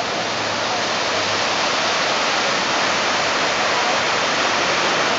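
Ocean surf rolls in at Arpoador beach in Rio de Janeiro, heard as a dense, steady wash of breaking waves and hissing foam that never lets up.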